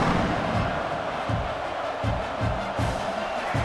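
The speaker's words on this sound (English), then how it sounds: "You think this crowd's going to get loud when their defense comes on the field?" A stadium crowd in the College Football 26 game, Kent State at Oklahoma, roars continuously with rhythmic chanting swells, loud and sustained with no clear talk above it.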